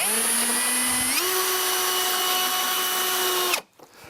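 A power drill drives screws to fix small side reinforcements onto the backrest of a pallet armchair, a loud steady whine that steps up in pitch partway through and cuts off near the end.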